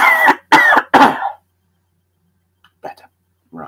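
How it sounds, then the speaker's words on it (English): A man gives three loud, close coughs in quick succession, followed by silence and a few faint throat sounds. "I need another big cough."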